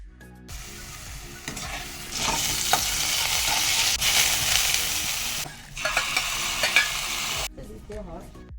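Cauliflower curry sizzling in a pan while it is stirred, a loud continuous frying hiss with scraping strokes of a spoon and brief pauses, no talking.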